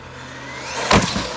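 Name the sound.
RC basher car at full throttle hitting a jump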